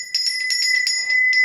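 A small bell rung rapidly over and over, bright metallic dings with a sustained ringing tone, close and loud with no voices.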